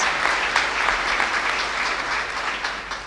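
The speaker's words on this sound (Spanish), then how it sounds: "Los asistentes al Teatro Campoamor de Oviedo se han puesto de pie para aplaudir al Príncipe" A standing audience at the Teatro Campoamor in Oviedo applauds the Prince of Asturias at the 1986 Prince of Asturias Awards ceremony, a dense, steady wash of clapping from many hands that holds its level throughout.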